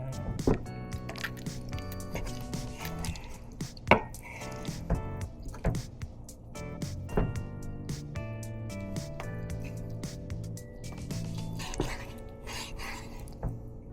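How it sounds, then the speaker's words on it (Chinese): A knife chops a skinned chicken drumstick into bite-size pieces for karaage, with irregular knocks and soft squishy cuts against the board under steady background music. "然后我们要把它切块，要切成可入口的大小"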